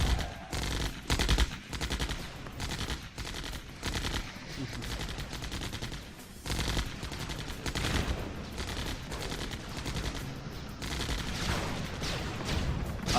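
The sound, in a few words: cannon and gunfire in the video game Mental Omega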